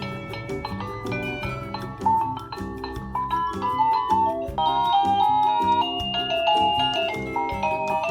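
Cheap wireless doorbell bought from Shopee plays a bright, chiming electronic melody, one of many ringtones, loud and close with no talk over it.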